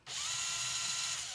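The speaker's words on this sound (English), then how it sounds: "Very careful, because you can, you'll drill right through the headstock." A power drill bores into a Fender Brad Gillis guitar headstock while a Floyd Rose is being installed, giving a steady, close whirring drone that starts abruptly and holds for over a second, with no talking.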